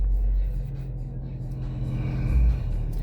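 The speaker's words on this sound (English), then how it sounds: "Give it a bit of a rev." A 2008 Mazda 6 GH 2.5 engine with 240,000 km is revved, a deep low rumble that swells and eases as the throttle rises, heard close up with no speech.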